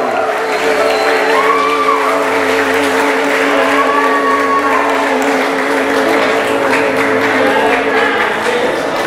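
Wedding guests give the bride's mother a round of applause, a dense, loud and steady clapping that fills the room throughout with some cheering mixed in.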